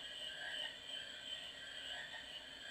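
Frogs croak across a marsh in Final Fantasy IX, a steady, fairly faint chorus of overlapping calls that runs the whole time with no talk over it.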